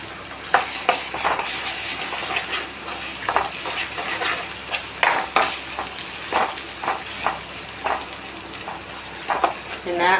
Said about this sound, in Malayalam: പിന്നെ ചെയ്യേണ്ടത് 2 മുട്ട അതിൽ വീഴ്ത്താം.